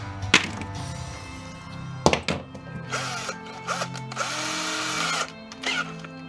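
A 6-in-1 hand screwdriver backing Torx screws out of a Sharp Carousel microwave oven's metal casing, with loud close knocks, sharp cracks and squeaky metallic creaks in uneven bursts.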